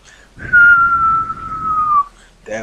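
A voice imitates a falling bomb with a single long, slowly descending whistle lasting about a second and a half, loud and close.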